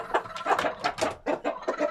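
A rooster in a chicken coop gives a quick series of close, loud clucks and short calls in an uneven rhythm, with no talk.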